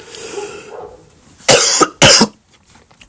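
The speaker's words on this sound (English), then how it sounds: "that cough wasn't in the video cutscene." Two sharp, loud coughs about half a second apart, following faint background speech.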